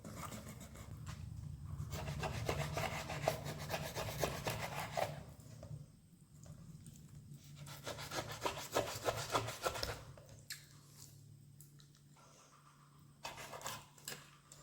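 A knife cuts through a stingray being cleaned, making close rasping, sawing strokes in long bursts separated by brief pauses.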